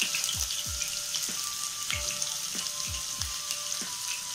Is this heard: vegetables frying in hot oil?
yes